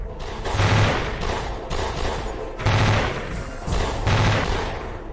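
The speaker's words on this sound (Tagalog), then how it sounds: "Nang makarinig sila ng sunod-sunod na pagputok" Gunfire sound effect in an action-horror aswang story: several rapid bursts of shots in quick succession, loud and close, with short gaps between volleys.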